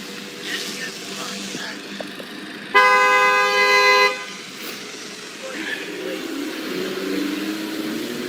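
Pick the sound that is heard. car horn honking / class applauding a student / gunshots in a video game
car horn honking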